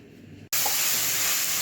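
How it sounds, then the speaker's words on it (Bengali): Pitha rice cake batter hits a hot pan: a brief quiet moment, then a sudden loud, steady sizzle that carries on alone, close by and unbroken. "পিঠে ভাজা চলছে"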